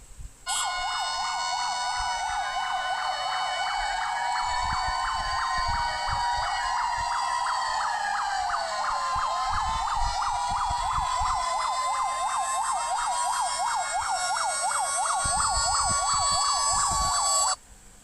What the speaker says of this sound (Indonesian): Bunyi dari sirine pemadam kebakaran adalah sebagai berikut.